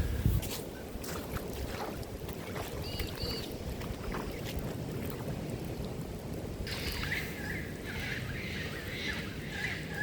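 Shoes that are not waterproof wade through a rainwater puddle outdoors, giving a steady wet sloshing and trickling under light wind noise that runs without pause.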